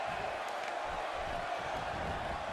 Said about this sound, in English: listen to the appreciation this Columbus crowd is giving these superstars